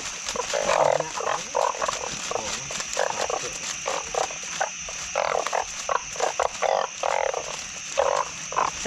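A dense chorus of oung, narrow-mouthed frogs croaks loudly and close by, with overlapping rhythmic bleating calls pulsing continuously over a steady high insect drone outdoors at night.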